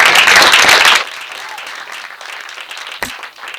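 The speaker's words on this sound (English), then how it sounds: "y'all give him a round of applause" Loud audience applause at an African American History Month celebration bursts for about a second, then cuts to a quieter room with scattered faint noise and a single sharp knock.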